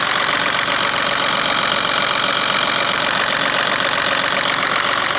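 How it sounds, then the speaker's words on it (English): BMW diesel car engine idling as it warms up after glow plug work, a loud steady close-up rattle with even knocking pulses and no talk. "I'm just going to let it warm up for half an hour, the engine, and then we'll see."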